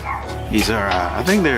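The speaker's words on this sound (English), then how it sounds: "sorry the dogs are barking" Dogs bark in short yips close by in a home garage where an Audi B5 S4 is being worked on, while someone talks over them.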